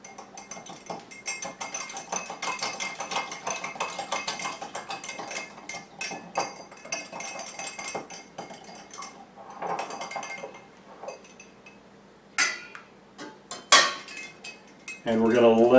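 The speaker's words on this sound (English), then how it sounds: "we're going to go ahead and whisk this up again a little bit" A whisk clinks rapidly and steadily against a bowl while whipping a milk chocolate mousse mixture, close up. The strokes slow and become sparse toward the end, followed by a brief clatter.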